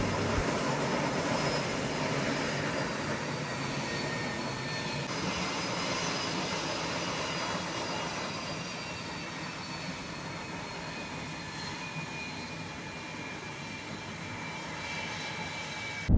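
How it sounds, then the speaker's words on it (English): An MD-80 airliner backs away from the gate under reverse thrust, its jet engines producing a steady, loud roar with whining tones that slowly shift over a long stretch and then ease slightly. "The SMD-80 uses its thrust reverser to perform a pushback."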